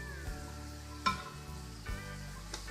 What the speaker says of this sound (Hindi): 2 to 3 मिनट्स हम इसे स्टर करेंगे।